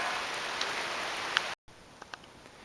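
Steady rain falls at a house-building site with a roof and arctic entry, a continuous soft hiss with a few distinct drops, briefly cut to silence before resuming more faintly.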